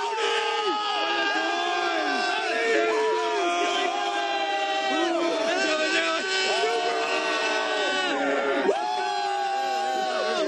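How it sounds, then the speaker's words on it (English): A large outdoor crowd at the Cleveland Browns 0-16 parade keeps up dense, continuous cheering, whooping and shouting with overlapping voices, loud and unbroken throughout. "the crowd has started to die down a little bit"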